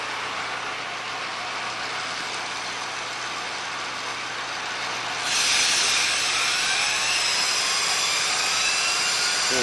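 A jig grinder spins up on a low profile sine plate part, and a steady machine whine jumps louder and brighter about halfway through as the spindle speed rises, with a high rising tone above a constant workshop hum.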